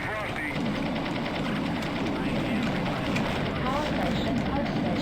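Helicopters fly in the video game Urban Assault, a continuous dense rotor and engine drone holding steady and fairly close, with a voice speaking over it.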